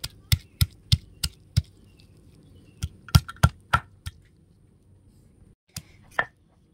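Chalta (elephant apple) pieces crushed on a stone slab with a grinding stone, giving a run of sharp, close thuds at an uneven pace, about a dozen knocks with short pauses between them and no talk.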